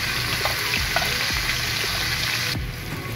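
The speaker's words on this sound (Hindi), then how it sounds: "गोभी को हम 2 से 3 मिनट तक फ्राई करेंगे।" Cauliflower pieces frying in a pan with crushed ginger give a steady, close, hissing sizzle that runs without pause, with faint scrapes and shifts in the pan.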